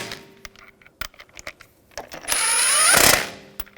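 Lug bolts being snugged down on a 2007-2013 BMW 328i wheel: sharp, scattered ratchet clicks and metallic taps up close, then a brief rising whirring tool burst before the clicking resumes.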